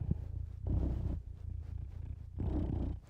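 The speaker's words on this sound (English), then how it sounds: "All the purrs, eh?" A cat purrs close to the microphone in a low, steady rumble, rising and falling with each breath over a few seconds, with no talking.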